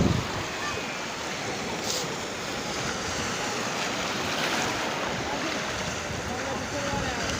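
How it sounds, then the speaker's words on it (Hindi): Sea waves washing onto Mubarak Village beach in Karachi, a steady close hiss of surf rolling in continuously with no break. "समंदर की मौजें और ये हसीन नज़ारा।"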